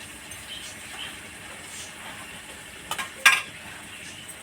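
Bottle gourd frying in a pan with whole spices gives a steady low sizzle while it is stirred, with a couple of sharper scraping clinks from the utensil near the end.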